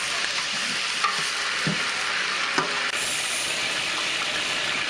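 Chopped onions stirred and frying in a pan for chicken biryani, a steady close sizzle with occasional scraping stirs throughout and no talk.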